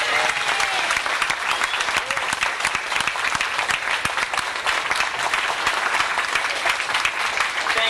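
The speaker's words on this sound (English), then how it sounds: "Let's give Dr. Williams a nice round of applause." Round of applause from the audience at a 1993 high school 25th class reunion gathering, dense sustained clapping from many hands in an indoor hall, steady and fairly loud throughout with no speech.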